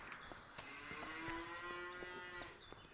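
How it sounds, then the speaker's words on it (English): Cows in a farming video game mod moo as they come in from the field, several drawn-out lowing calls overlapping at moderate distance against a soft ambient backdrop, with no one speaking. "door is opening and the cows should be coming in from the field"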